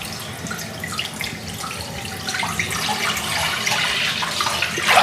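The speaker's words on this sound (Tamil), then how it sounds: "இதில் அந்த வடித்து வச்ச டேட்ஸ் தண்ணி ஊற்றிக்கலாம்." Strained date water poured into a kadai for homemade date syrup, a steady close splashing and trickling stream that grows slightly louder as it fills, with no talk.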